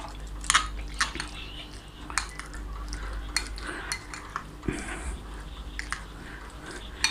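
Egg sandwich filling with mayonnaise stirred in a bowl, a spoon clinking and scraping against the sides in quick irregular taps, close and fairly quiet.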